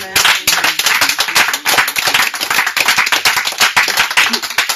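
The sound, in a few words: congregation clapping to acclaim the Lord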